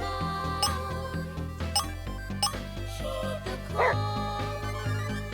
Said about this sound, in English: Cleo's barking scares the enemy.